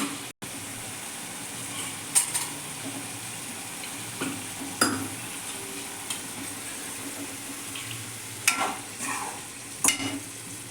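Water added to a fish curry pan sizzles and hisses steadily, with occasional louder bursts of spitting and a few clinks of stirring.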